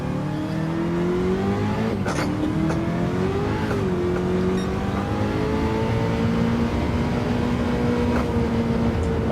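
Screaming engine of a D1 drift car held at full throttle in Gran Turismo 7, a steady loud whine that climbs and dips slightly as gears shift, continuous and close with no voices.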